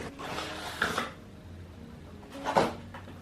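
Book packaging from Flipkart being opened: two short bursts of crinkling, tearing and rustling close by, separated by quieter handling noise, with no talking.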